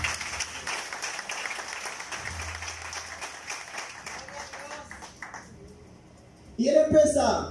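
Applause from a church congregation comes as a dense patter of many hands, fairly faint and fading over several seconds, followed by a louder voice near the end.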